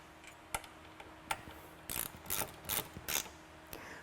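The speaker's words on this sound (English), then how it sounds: "I'm just going to snug them down a little bit. And this is a 5mm Allen key." A 5mm Allen key snugging down bolts on Ford Bronco two-door rear window MOLLE panels, a series of short ratcheting clicks and metallic ticks in small bursts, close and fairly crisp, with no talking.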